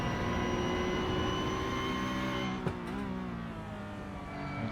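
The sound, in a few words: Porsche race car engine noise in cockpit, iRacing video game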